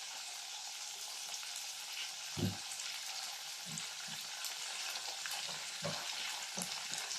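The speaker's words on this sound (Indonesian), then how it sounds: "Kita tumis sebentar tahunya adalah." Tofu stir-fried in a pan, a steady bright hiss of frying with a few soft low scrapes and knocks of stirring scattered through.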